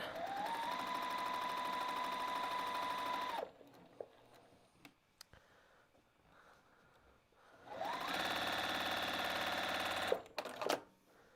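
A sewing machine lightly quilts a spot on a quilt-as-you-go fabric postcard in two sustained runs of rapid stitching with a steady whine, separated by a quieter pause filled with small handling clicks and rustles, close and loud.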